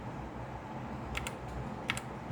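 Keys pressed on a Skyloong GK61 60% mechanical keyboard with Gateron Red switches, a few faint quick clicks in two brief pairs over a quiet background hiss.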